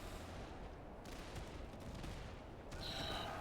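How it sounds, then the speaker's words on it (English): Musket volley fire in the Master of Command strategy game, a dense crackling roar of many muskets firing over distant battle noise, heard faint and continuous with a small swell near the end. "Let's fire over here so we're not shooting into melee combat."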